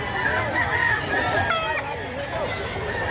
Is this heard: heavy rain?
no